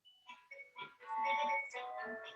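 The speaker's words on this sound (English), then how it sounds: "That's my doorbell." A chiming electronic doorbell plays a short multi-note melody, ringing clearly in a quiet room with no talking.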